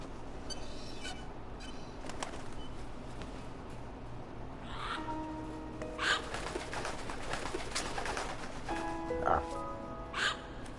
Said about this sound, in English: that's the same parrot in Snake Eater. Well, not the same one, but it's an Alexandrian parakeet